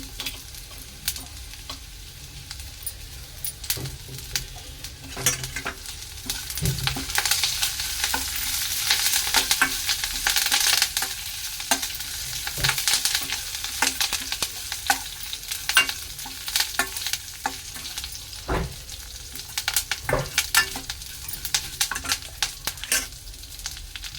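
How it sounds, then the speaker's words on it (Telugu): Garlic and curry leaves fry in hot oil for a tempering over cucumber dal, a steady close sizzle with crackles and the scrape of stirring throughout. "పప్పులో మంచిగా ఎల్లుల్లిపాయ కూడా వేగిన తర్వాత కరివేపాకండి"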